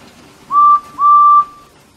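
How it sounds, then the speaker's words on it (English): Toy train engines from Thomas and Friends whistle happily, two clear, loud, high steady whistle blasts, the second longer, sounding alone in a quiet moment. "Thomas and all his friends, new and old, whistled happily."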